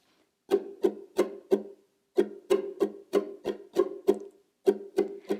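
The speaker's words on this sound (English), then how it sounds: "it's a syncopated strumming pattern." Ukulele strummed in a syncopated skip-like pattern, short bursts of quick strokes grouped with brief gaps, close and clear with no voice.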